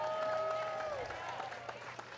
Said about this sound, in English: Ben Johns, Collin Johns, big round of applause.